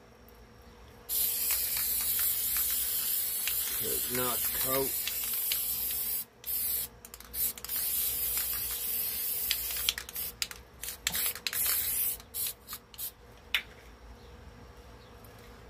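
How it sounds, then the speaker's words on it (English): An aerosol spray can hisses steadily as it coats a speaker board, a continuous near spray with brief breaks, while someone speaks briefly over it. "Spray this board down."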